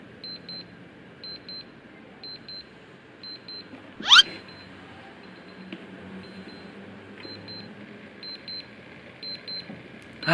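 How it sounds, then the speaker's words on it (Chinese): An Iron Man electronic alarm clock gives off quiet, thin electronic beeps in short repeated bursts, very faint, with one brief louder handling knock partway through. "我有设定了闹钟，9分喽，9分了，快到1点10分了，我们仔细听它的铃声到底是怎样的"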